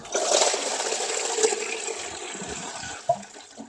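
Coolant pours steadily from the bottom hose of a badly neglected 1971 Toyota Celica TA22 radiator after a flush, a continuous close splashing rush of liquid with a couple of small clunks.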